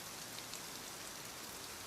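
Steady rain falls and patters on surfaces, a dense even hiss of drops without pauses or voices, soft and continuous throughout.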